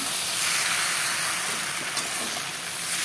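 Potato, eggplant and tomato sauté with spices in a pan, making a loud, constant frying sizzle with a faint hiss and soft stirring underneath.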